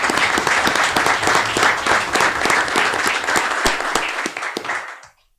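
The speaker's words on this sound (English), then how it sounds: "Little applause for that." An audience at a school board meeting applauds a swimming team's record state finish, a full steady round of clapping that holds for about four seconds before fading out.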